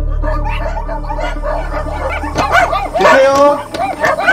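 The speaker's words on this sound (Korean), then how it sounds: "수십 마리의 개들이 소란하게 짖는 가운데" Dozens of dogs bark, yip and whimper together inside a roadside container in Gyeonggi Province, South Korea, on a hot day: a chaotic, overlapping chorus that grows louder and denser toward the end, with a voice speaking over it.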